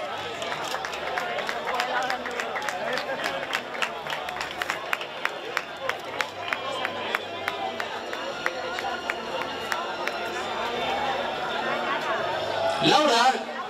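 Strong applause from a crowd at the IX San Roque triathlon awards ceremony in 2023: steady, rapid clapping under crowd chatter, with a brief louder flourish near the end.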